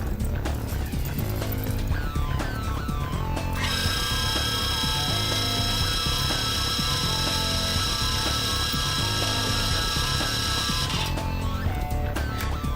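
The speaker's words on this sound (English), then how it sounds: "Tighten it into the chuck and face off the first side." A metal lathe runs steadily as it faces off a workpiece held in the chuck, giving a continuous machining drone with a high cutting whine through the middle section.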